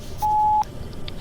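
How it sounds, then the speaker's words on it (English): A voicemail answering machine sounds a single steady electronic beep, clean and moderately loud, lasting under half a second before quiet. "Please leave your message after the beep."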